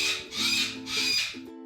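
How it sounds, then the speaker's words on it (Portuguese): A cockatoo gives harsh, raspy calls, two long squawks in quick succession at moderate loudness, heard alone with no talking. "Este é o som da cacatua."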